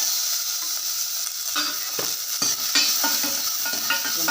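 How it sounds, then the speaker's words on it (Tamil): Onions sizzle and crackle in hot oil while a utensil stirs and scrapes through them, steady frying noise close up with intermittent clinks. "நல்லா இதில் கலந்து விட்டுடலாம் வெங்காயம் எண்ணெயில் கொஞ்சம் வேகட்டும்"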